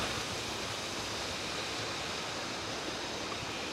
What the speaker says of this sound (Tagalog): Tapos may maliit na ilog dito.